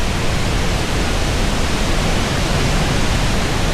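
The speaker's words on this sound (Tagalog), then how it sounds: "Wow, ayun guys ang falls." A strong waterfall in Mindanao, swollen after the previous night's rain and falling like a curtain, gives a steady, loud, dense roar that fills the whole clip without a break.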